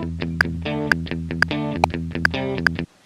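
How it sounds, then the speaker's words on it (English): A time-stretched distorted guitar riff plays sped up to a hurried tempo, repeating a rhythmic note pattern before cutting off abruptly. "This means that it's adjusting the speed of this guitar line to match this new tempo."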